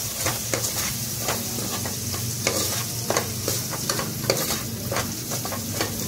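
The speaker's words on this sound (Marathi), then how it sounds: "आता हे चांगलं तेल सुटेपर्यंत परतूया" Crab masala sizzles in oil in a home kitchen with salt and homemade spice mix. A spoon scrapes and stirs it in steady, irregular strokes against the pan over a continuous frying hiss, close and moderately loud, with no talking.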